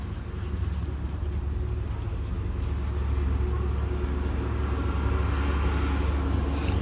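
Handwriting of chemical element names, scratching steadily throughout at close range over a constant low rumble of background noise, with no pause in the writing.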